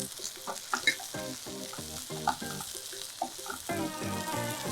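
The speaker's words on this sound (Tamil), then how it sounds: "அந்த பூண்டை மட்டும் போட்டுட்டு ஒரு வதக்கு வதக்கிட்டு" Garlic sautéing in a pan for dal, with a steady sizzle and repeated scraping strokes of a spatula stirring it.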